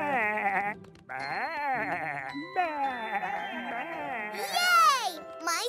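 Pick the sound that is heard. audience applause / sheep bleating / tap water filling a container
sheep bleating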